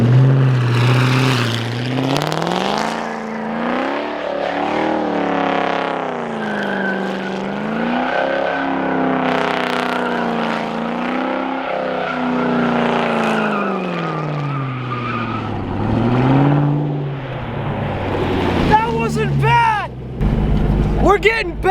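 A straight-piped Ford GT spins on Goodyear tires, its exhaust roaring loud and close with sweeping rises and falls in pitch that end in a sharp squeal, continuous throughout with no talk.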